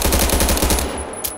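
Rapid automatic gunfire from an AK-12 rifle in the Roblox video game, a fast loud burst of about a dozen rounds that stops abruptly, followed by a short click.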